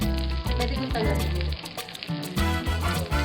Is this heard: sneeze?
no